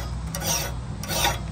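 Hand file stroking along the bevels of a freshly forged, scaled blade, two close rasping passes with a brief pause between.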